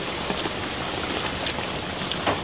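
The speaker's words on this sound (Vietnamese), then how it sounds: "Mưa nó cũng lớn lắm." Heavy rain pours down outdoors in a Vietnamese garden, a dense, steady patter of drops on surfaces with scattered louder splashes and no talking.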